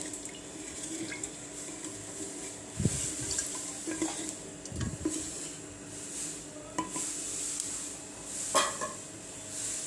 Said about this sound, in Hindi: और हमें इस तरह लकड़े का ही चम्मच यूज़ करना है, दूसरा कोई चम्मच यूज़ नहीं करना है। अच्छे से हमें मिक्स कर लेना है।